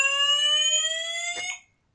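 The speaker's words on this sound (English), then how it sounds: "Sorry about the fire alarm test there" A building fire alarm test sounds as a loud, steady electronic tone with stacked harmonics, ringing alone for about a second and a half before cutting off abruptly into silence.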